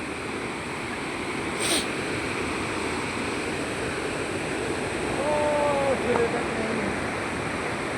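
River water held back by embankments, where sand collects, rushes fast in a broad, steady roar that fills the scene, with a brief sharp click and a faint bird-like whistle partway through.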